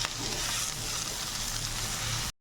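Tomato paste fries in a hot pan for egg fried rice, giving a close, even sizzling hiss for a couple of seconds before cutting off abruptly; no voices.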